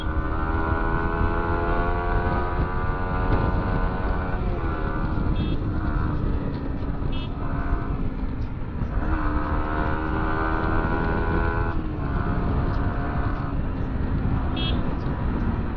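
Dense road traffic around a KTM 390 motorcycle on the move, with a steady engine drone, rising and falling tones as revs change and a few distant horn toots, a rider talking over it.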